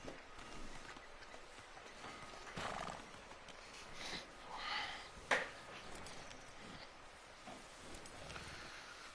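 A horse in Red Dead Redemption 2 gives a faint whinny and snorts amid soft clip-clop hoofbeats, with a short sharp knock near the middle and a quiet, steady background.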